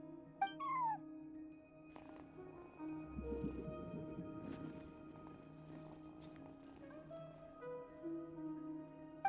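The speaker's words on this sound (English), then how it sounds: "cat watching over the front desk" A cat in the game Genshin Impact meows and purrs at a front desk, with one short mew early on and then a soft, low purr over a quiet ambient music bed.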